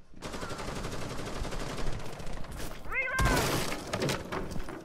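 Video game gunfire erupts in rapid, loud bursts over a steady noisy background, with a sharp rising chirp and a dense crash of shots near the end; voices talk faintly underneath.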